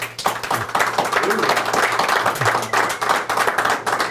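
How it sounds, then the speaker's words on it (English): Audience applause for a guest at an executive summit interview, dense continuous clapping from many hands, loud and steady, with voices mixed in underneath. "If we give him a round of applause"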